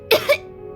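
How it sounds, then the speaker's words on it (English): A game character in Genshin Impact coughs twice in close succession, two short harsh bursts near and fairly loud, followed by quiet. "He kept coughing all the time, just like me."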